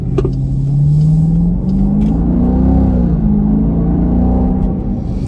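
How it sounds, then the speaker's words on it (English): A Jeep Grand Cherokee SRT's deep V8 exhaust with a welded X pipe rumbles loudly and close by, rising and falling through a couple of revs with a smooth, throaty tone and no talking. "I put an X pipe on it. It was welded perfectly, and now here's what it sounds like."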